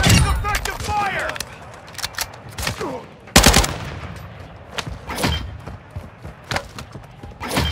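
Gunfire in the Call of Duty Warzone DMZ video game: repeated sharp bursts and single loud shots crack across the scene, mixed with game effects and occasional voices.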